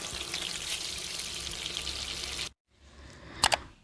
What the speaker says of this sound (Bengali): ভাজবার সময় গ্যাসের আঁচ বেশি থেকে লো মিডিয়ামে রেখে এগুলো ভাজতে হবে।